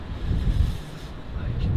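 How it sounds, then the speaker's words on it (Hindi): Cold wind gusts steadily across the microphone outdoors, a constant low rumbling buffet with no pauses, fairly loud and close. "बहुत ठंडी हवा चलती है यार, बहुत ही ज़्यादा ठंडी"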